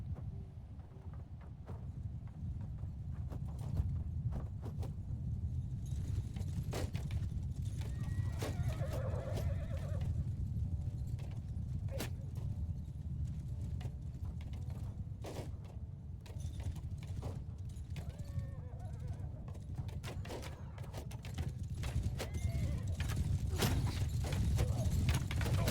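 Galloping hooves rumble continuously as horses neigh and whinny now and then, amid the clatter of a busy cavalry charge against horse archers in the video game Mount & Blade II: Bannerlord.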